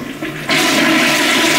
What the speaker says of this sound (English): Oh, that's a big flush.